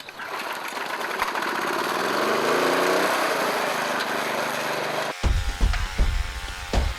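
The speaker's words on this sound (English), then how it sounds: "Let's go and do some lawn mowing and see how that turns out." A petrol lawn mower runs steadily and loudly close by, its engine drone rising and falling slightly, then cutting to a rougher, choppier sound near the end.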